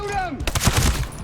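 Gunfire in the video game Ghost Recon Breakpoint, a brief burst of several rapid shots over about a second, fairly close and loud, mixed with other game sounds.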